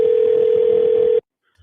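A telephone signals an incoming call with a steady continuous electronic tone, loud and close, that holds for about a second before cutting off abruptly into silence.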